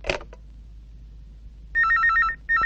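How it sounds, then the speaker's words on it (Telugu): A telephone rings in a domestic scene, its electronic trilling ring starting after a short thump and near-silence, loud and close, with one long burst then a second beginning. "గంట మోగింది."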